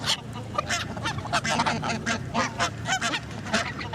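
Seagulls call in a dense, overlapping chorus of short, harsh cries that repeat rapidly and loudly without pause.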